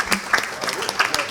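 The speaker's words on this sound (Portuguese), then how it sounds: "Silvio, pode aplaudir aí." Scattered clapping from a studio audience on a Rio de Janeiro culture and entertainment programme, a short burst of individual claps with some voices mixed in.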